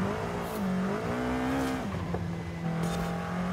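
A tiny bubble car in Forza Horizon 5 revs and accelerates, its engine pitch rising and falling through gear changes with brief tyre squeal, continuous and close.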